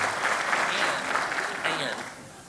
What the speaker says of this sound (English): thank you for the round of applause when my name got first called